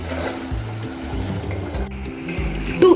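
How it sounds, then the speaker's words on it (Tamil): Aachi Chettinad biryani masala fries in oil while a spoon stirs and scrapes the pan in quick repeated strokes over a close, continuous sizzle. "எண்ணெய் பிரிகிற வரைக்கும் நம்ம நல்லா வதக்கிட்டே இருக்கணும்"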